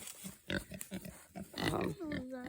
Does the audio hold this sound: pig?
yes